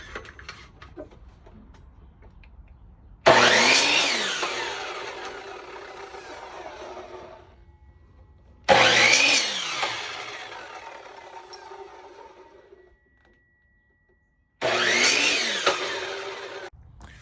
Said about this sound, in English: I'm cutting these basically 4 inches each.